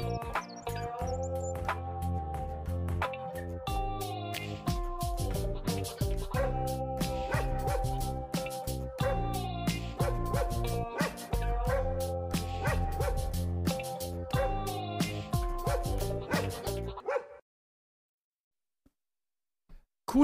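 A dog barks and yips repeatedly in a steady, loud run of short calls over dense background sound, lasting about seventeen seconds before cutting to near silence.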